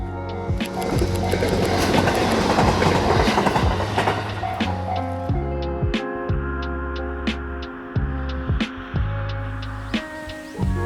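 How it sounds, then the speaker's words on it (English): A train in Japan approaches, its wheels clattering rhythmically over rail joints. A loud rumble and screech of wheels dominate at first, then give way to sharper, separate clacks as the cars roll past. "As you can hear, the train is coming"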